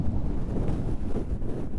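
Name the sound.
strong wind blowing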